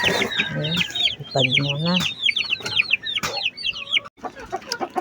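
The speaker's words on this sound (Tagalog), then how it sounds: "Ang aking mga sakit na sisiw." Sick chicks at a farm give rapid high-pitched peeping throughout, with lower clucks from larger fowl, close and lively, while a person speaks briefly over them.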